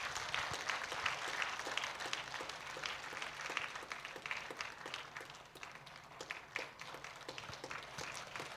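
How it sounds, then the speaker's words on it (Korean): Church congregation applauding during a Korean Presbyterian Sunday service, a steady sustained round of clapping from many hands, moderately distant and even throughout with no voices over it. "큰 박수 부탁드립니다."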